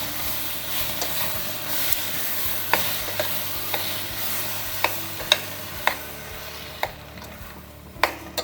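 Soya chunks and ground palak paste are stirred in a pan with a quiet sizzle beneath, while a spoon knocks and scrapes against the metal in irregular sharp clicks.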